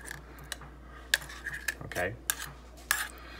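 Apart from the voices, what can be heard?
spoon prying open a can lid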